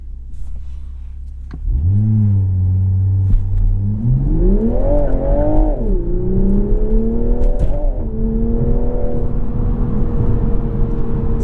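A 2021 Toyota Supra 3.0 with ZF 8-speed launches hard from a low idle, the engine note climbing steadily as it pulls through gears, with brief dips at each quick upshift, loud and close from inside the cabin.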